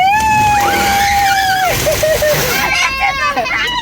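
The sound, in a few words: automatic car wash spraying water on car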